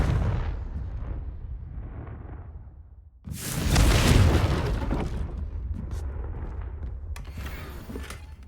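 Confringo fire spell explosions in the video game Hogwarts Legacy, a rumbling blast that swells and lingers, with booming fiery bursts and crackles continuing over a loud background.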